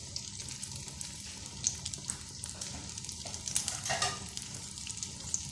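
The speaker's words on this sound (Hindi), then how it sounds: "ये मैंने एक डाल दिया है, ये फ्राई हो रहा है" A Peshawari-style chapli kabab shallow-frying in hot oil gives a soft, steady sizzle with light crackles, fairly quiet and heard alone.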